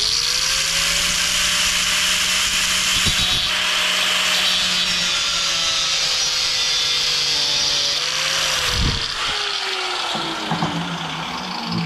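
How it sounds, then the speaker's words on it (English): A cutoff wheel grinds a groove into the metal of a 64 Impala fender, giving a continuous loud, high whine that sags and rises in pitch as the cut bears down, with a few brief scraping bursts. "So I'm going to give it a shot with the cutoff wheel."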